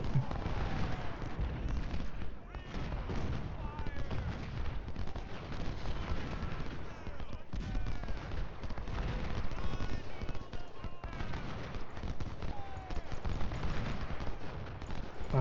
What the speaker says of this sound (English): We've got their attention. And we'll get a nice flanking shot on them.